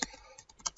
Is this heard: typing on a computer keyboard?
yes